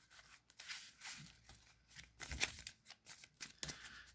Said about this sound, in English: Shuffle, shuffle, shuffle, shuffle.